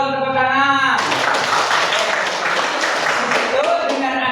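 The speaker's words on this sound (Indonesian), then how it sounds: "tepuk tangan" Ninth-grade students in a classroom break into sudden loud clapping after a teacher's voice, a dense burst of hand claps lasting a few seconds.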